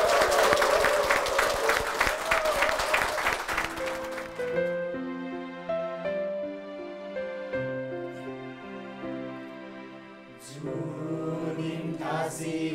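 A church congregation gives a burst of applause that fades out after about four seconds, followed by soft piano or keyboard chords playing slowly, then a brief swell of clapping returns near the end.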